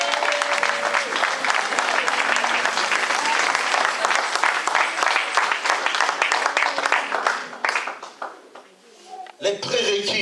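A church congregation breaks into loud sustained applause that fills the room, then fades away near the end as a voice resumes speaking.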